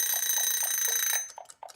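A puzzle timer alarm rings in a steady electronic beeping pattern, loud and close, then cuts off into a few scattered clicks.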